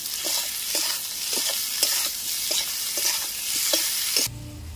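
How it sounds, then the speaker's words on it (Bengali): Onions and potatoes fry lightly in a pan for a village-style brinjal fish curry, with a steady bright sizzle and regular scraping strokes of a spatula stirring, ending abruptly. "পেঁয়াজ আর আলু হালকাভাবে ভেজে নিয়েছি"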